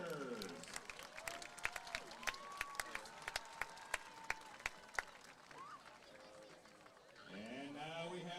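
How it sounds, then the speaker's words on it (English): A crowd at a Normal Community Ironmen high-school football game against the Richwoods Knights applauds its senior cheerleaders, scattered claps and cheers from a stadium, with voices and talk in the background and a louder announcer voice near the end. "how about a big round of applause for our senior cheerleaders?"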